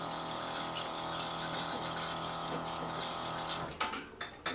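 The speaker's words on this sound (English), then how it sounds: "give that a water, nice distilled water rinse." Distilled water rinse of a zincate-plated aluminum part: a steady, close rush of running water that holds for several seconds, then breaks into a few uneven splashes at the end.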